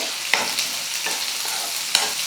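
Steady sizzling of small onions frying in a hot pan, with a few faint stirring scrapes over the continuous hiss.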